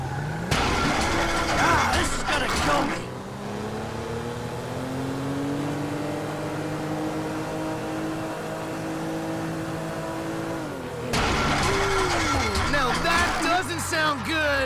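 A car engine in the video game Grand Theft Auto 5 drones and climbs in pitch as it revs, held steady through the middle, with bursts of noisy activity and excited talk at the start and end.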